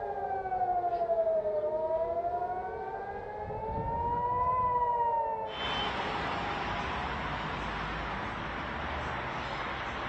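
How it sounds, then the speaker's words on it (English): Air raid sirens warning of an attack wail loudly and steadily, the pitch slowly rising and falling, then give way to a dense, broadband roar that continues to the end; no talking. "Oh, we have sirens. We have sirens. Another attack's coming."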